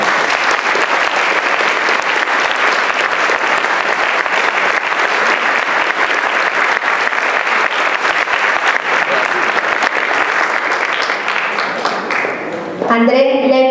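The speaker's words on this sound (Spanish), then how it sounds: "Un fuerte aplauso para los alumnos de PRO." Loud, sustained audience applause for students of the PRO program at a school graduation ceremony, steady dense clapping throughout with brief crowd noise near the end.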